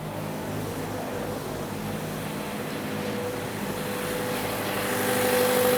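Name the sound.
Mazda 3 engine running after fuel pump replacement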